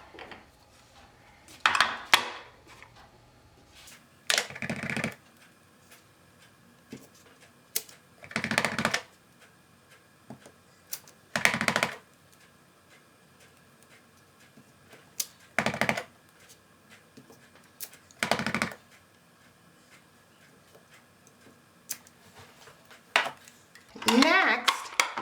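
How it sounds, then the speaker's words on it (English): A rubber stamp with a poinsettia design is pressed repeatedly onto a sheet of paper, giving about eight sharp, separate taps at uneven intervals, each heard alone over a quiet background. "I'm going to randomly stamp the poinsettia all around this sheet of paper."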